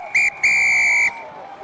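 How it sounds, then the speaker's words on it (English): Referee's whistle at a men's university rugby match, Durham against Cardiff at Rosslyn Park: a short shrill blast followed by a longer sustained one, loud and close over faint background. "And with that, the whistle goes."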